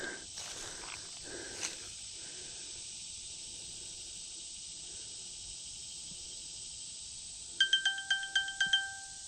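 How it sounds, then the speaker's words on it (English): A phone ringtone near the end, a short run of bright repeated electronic chirps in quick pulses, following long quiet room hiss with a few faint rustles and a soft thump earlier. "I'm getting a few phone calls."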